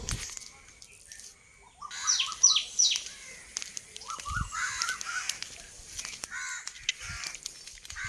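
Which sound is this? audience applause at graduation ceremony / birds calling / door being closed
birds calling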